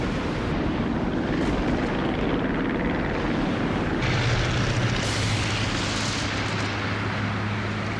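A cartoon airplane comes in to land, producing a continuous, loud roaring engine drone with a rushing, windy texture that holds steady throughout.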